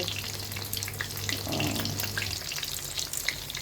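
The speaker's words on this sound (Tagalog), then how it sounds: "Iprito mo lang." Flour-coated boneless chicken frying in oil, a dense, continuous close-up sizzle with crackly spattering throughout and a low hum underneath, no speech.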